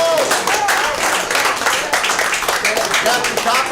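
An improv theatresports audience claps in a steady, dense patter of applause at close range, with some voices mixed in.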